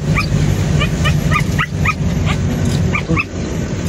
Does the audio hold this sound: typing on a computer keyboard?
no